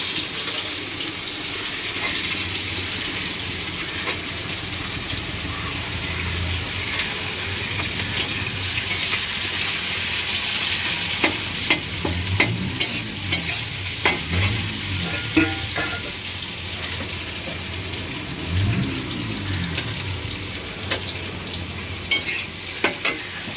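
Onion frying in mustard oil with spices for a Bengali-style chicken dish, a steady broadband sizzle with occasional stirring scrapes and clinks, close and continuous, no talking.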